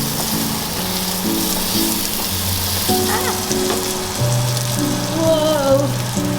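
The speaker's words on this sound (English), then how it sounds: "I will add a little bit of vegetable oil. Just a little bit to fry the paneer." Paneer fries in a little vegetable oil for paneer butter masala, giving a steady, close sizzle that holds for the whole stretch, with faint tonal sounds in the background.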